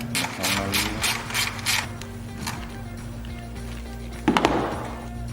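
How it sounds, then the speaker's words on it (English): A 10mm socket ratchet clicks in quick bursts while backing out a bolt during a vehicle switch panel install, with a low background hum and a brief metallic clatter near the end. "We're going to use a 10mm socket to remove this bolt"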